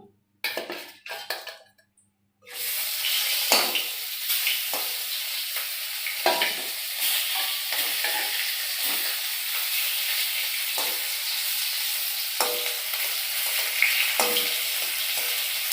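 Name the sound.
fish frying in oil in a pan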